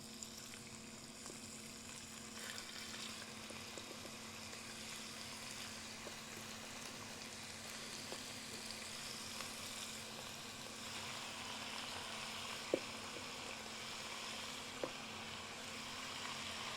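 Chicken searing in a hot pan while cooking a Cambodian chicken curry, a steady soft sizzle and crackle with a low hum beneath, quiet and unbroken, with a couple of faint clicks.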